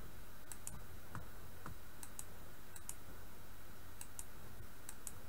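Typing on a computer keyboard: quiet, irregular clicks and taps in small clusters over a faint steady background hiss.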